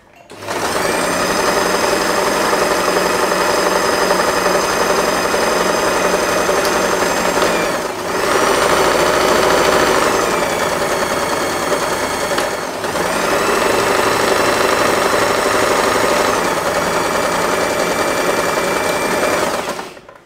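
Sewing machine stitching two scrap fabric pieces pinned right sides together, a loud steady whirring hum running almost continuously with two brief slowdowns.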